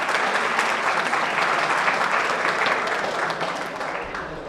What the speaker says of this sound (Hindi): let's commence this evening with a huge, loud round of applause